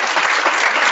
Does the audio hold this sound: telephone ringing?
no